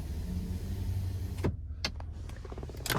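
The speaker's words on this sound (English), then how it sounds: "And then you do have a power rear window." Power rear window motor whirring in a 2023 Ford F-250 Lariat Ultimate Tremor cab, a steady hum that ends with a thunk as the glass stops, followed by a few faint clicks.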